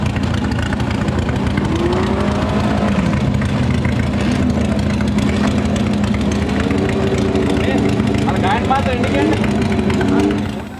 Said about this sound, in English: These 1600 Formula Fords don't like to be stationary and idling for any period of time because they don't have cooling fans for their radiators